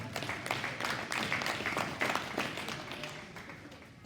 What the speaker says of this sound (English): Let's give Henry and Peyton a nice round of applause